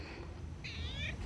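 A cat named Kitty lets out a single short, faint meow outdoors in a shady corner, over a low background hum.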